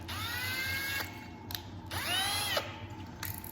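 Two bursts of a drill whirring up as its chuck is tightened on a bit, separated by brief pauses with faint clicks, close and moderately loud.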